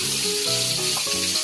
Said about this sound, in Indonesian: Ini bumbunya harus ditumis sampai matang ya